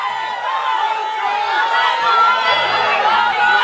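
Crowd cheering and chattering at a bun and cheese eating contest, a steady, loud mass of voices with shouts throughout and some talk mixed in.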